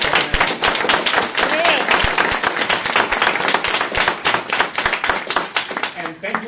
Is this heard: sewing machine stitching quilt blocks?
no